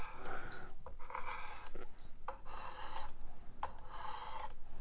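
A knife blade drawn in short strokes across a fine-grit diamond stone on a Work Sharp Precision Adjustable sharpener, several soft scraping passes in a steady rhythm, close and quiet, with faint chirps in the background.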